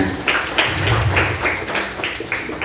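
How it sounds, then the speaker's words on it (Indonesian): Audience applause for schoolchildren at a junior high school event in Kupang, a dense wash of many hands clapping steadily throughout, fairly loud and continuous. "Sekali lagi kita berikan aplaus untuk anak-anak kita"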